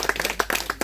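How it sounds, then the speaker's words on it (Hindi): Audience applause at a village magic show, a burst of hand clapping with several sharp claps, close and moderately loud, lasting under a second. "ताली बजाइए।"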